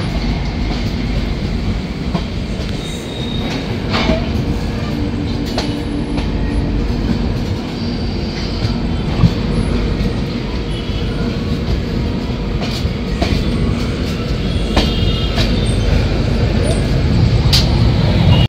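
The 13126 Sairang Express, heard from on board as it rolls into Kolkata station: a steady, loud rumble of the moving train with scattered wheel clicks and rattles throughout.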